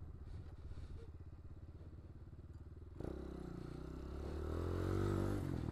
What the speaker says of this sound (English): Good little second gear wheelie there.